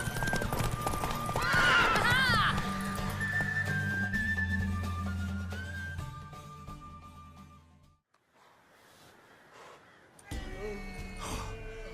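A horse in The Witcher 3 gives a loud whinny while hooves clip-clop steadily beneath it, then the sound drops away briefly before ambient game noise resumes.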